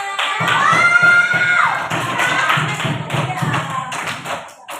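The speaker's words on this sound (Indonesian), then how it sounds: "Kita kasih tepuk tangan buat Edward" Fourth-grade schoolchildren clap for a classmate in a classroom, a loud, fairly rhythmic run of claps with children's voices and shouts mixed in.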